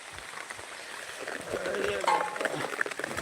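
Rain falls on a rice paddy field during weeding, a steady broadband hiss and patter that swells slightly toward the end, with muffled voices mixed in.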